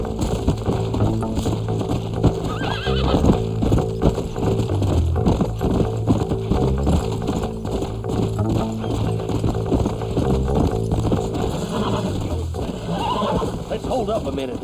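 In the video game Red Dead Redemption, several horses neigh and whinny over a rhythmic clatter of galloping hooves, with music and voices mixed in throughout.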